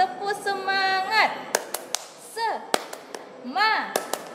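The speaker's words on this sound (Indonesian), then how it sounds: "Coba lagi adik-adik, ulang sekali lagi dengan tepuk semangat." Children do a rhythmic encouragement clap, with sharp hand claps in quick sets of three that alternate with lively chanted voices, all close and bright.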